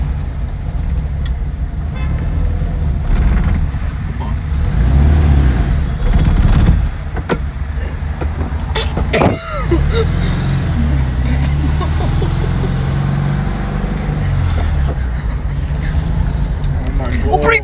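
A car drives in second gear, its engine humming steadily with a brief thump partway through, while nervous voices talk over it inside the cabin.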